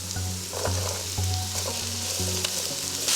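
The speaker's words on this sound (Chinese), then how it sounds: "我一般总是先炒胡萝卜" Carrots stir-fry in hot oil in a wok, a loud steady sizzle broken by repeated scraping strokes of a spatula, close up with no talking.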